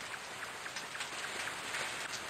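Rain in the game Yume Nikki 3D falls as an even, constant wash of fine droplets at moderate loudness, with faint scattered drop ticks and nothing else heard.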